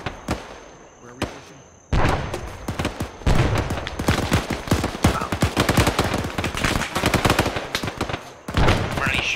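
Rapid gunfire in an ArmA 3 firefight, dense overlapping bursts of shots that sound close and loud, with a brief lull near the start and a few quieter gaps.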